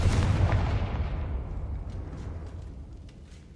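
A Confringo fire spell blasts in the video game Hogwarts Legacy, opening with a loud, explosive boom that rumbles heavily and then fades away over a few seconds.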